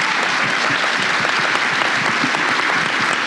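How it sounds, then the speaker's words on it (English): Loud, dense applause from a large conference audience, sustained and even throughout with no voices standing out. "So can we clap for Mary, please?"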